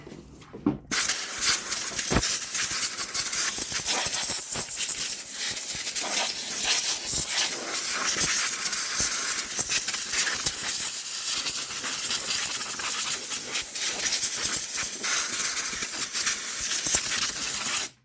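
Compressed air blasts steadily against a 2020 Jeep Wrangler engine part near the coolant reservoir, a loud, continuous close-up hiss with brief sputters, running without pause and no talking over it.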